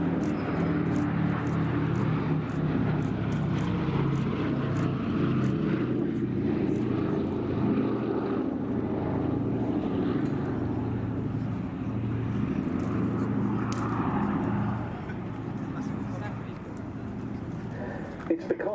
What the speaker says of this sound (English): This final pass, solo of the B-17 today